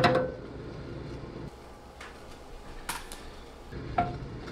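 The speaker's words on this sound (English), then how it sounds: "just stir it. Brown it a little bit." A knife stirs garlic browning in a pot over medium-low heat: a few scattered scrapes and metallic taps over a faint sizzle, sparse and close, with no one speaking.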